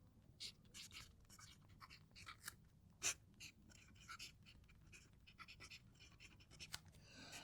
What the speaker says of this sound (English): So if I remember to shut up, you should hopefully hear the pen writing.